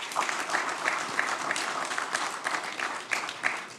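Audience applause at a knights' federation ceremony of the Sovereign Order of St. John of Jerusalem, a dense steady round of many hands clapping in a hall, sustained throughout with small swells.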